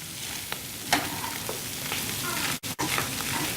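Sausage mixture for a bread pudding sizzles steadily in a pan while being given a quick stir, with soft scrapes and clicks over the frying and two short dropouts near the end.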